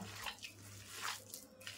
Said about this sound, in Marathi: थोडं पाणी घालत राहायचं।